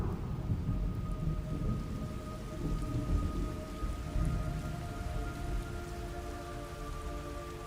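Steady rain pours in the Metal Gear Solid Delta video game, with low thunder rumbling beneath it and a faint sustained tone running through, continuous and fairly loud, with no voices.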